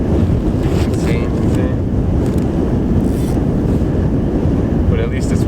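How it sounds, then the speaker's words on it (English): A strong wind roars across a frozen Red Lake during a blizzard, a loud, constant rumbling buffeting of the microphone with gusts and no pause. "It is insanely windy, like insane."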